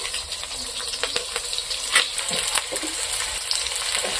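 Bay leaf, chili and onion frying in hot oil in a pot, giving a steady bright sizzle and crackle that runs throughout with small spatters and clinks, close and fairly loud, with no talking.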